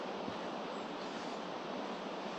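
Rain-swollen stream water rushing out of the Strid, a dense, steady roar of churning flow heard close, with no voices.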